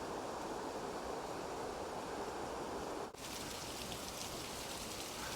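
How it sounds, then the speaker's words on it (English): A waterfall in Glacier Gorge, Rocky Mountain National Park, gives a steady broadband hiss like rain on a surface, faint and continuous with a short break partway through. "And I've never really noticed that waterfall down there."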